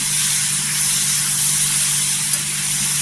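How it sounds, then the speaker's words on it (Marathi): Tomatoes and onions sauté in hot oil for paneer masala, giving a steady, close hissing sizzle that holds unchanged throughout. "टोमॅटो पण ह्याच्यामध्ये परतून घ्यायचं छान असं तेलावर"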